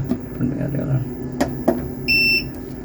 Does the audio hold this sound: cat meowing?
no